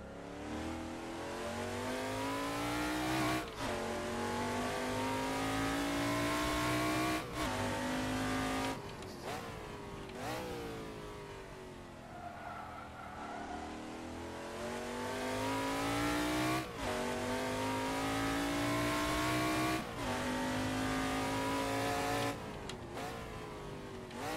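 Camaro Trans Am race car lapping the Winton circuit in the Assetto Corsa video game, its engine roaring loud and close as it revs up through the gears, with sharp shifts, lifts into corners and repeated hard acceleration.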